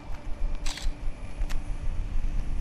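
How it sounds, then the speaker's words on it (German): Camera shutter clicks as a photo is taken in Far Cry 4, one sharp mechanical snap followed by a second quieter click over a low steady background hum. "ich will nur ganz schnell ein Foto"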